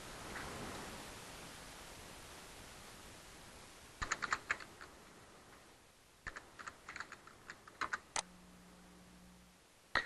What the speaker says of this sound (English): if I open my browser and type in localhost up here